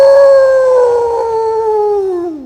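A man imitates a wolf with one long, loud, sustained howl that slowly falls in pitch and trails off at the end, close and alone.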